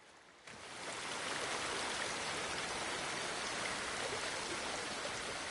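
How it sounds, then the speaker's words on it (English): Waterfall in the video game Ghost of Tsushima, a dense, steady broadband rushing roar that swells in after half a second and stays loud and even, with no talking over it. "the noise of the waterfall covers your voice."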